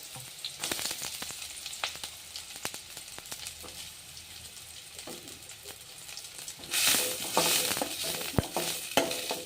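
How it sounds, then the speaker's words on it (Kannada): Two finely chopped onions hit hot oil with spluttering mustard seeds for a low-oil evening snack. A close sizzle is dotted with spatula clicks and stirs, then a louder hissing surge near the end. "ಚಟ್ಪಟ ಅಂದ ತಕ್ಷಣ ಈರುಳ್ಳಿ ಸಣ್ಣ ಕಟ್ ಮಾಡಿರುವಂಥ 2 ಈರುಳ್ಳಿ ಹಾಕೋತಿದ್ದೀನಿ."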